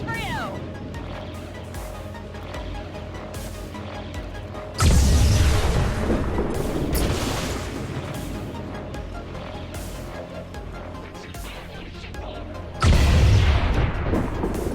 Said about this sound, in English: if I'm not using the blaster bomb, then I can use the plasma grenade